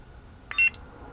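One short, high electronic beep from the Nano Biscotti soundboard of a custom lightsaber as its button is pressed, clear and close against a quiet background.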